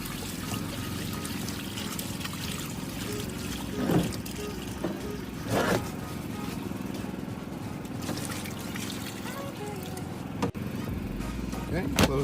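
Water pours steadily into the tub of a Costway RV washing machine loaded with clothes, a continuous rushing trickle with a few knocks, close by and fairly loud.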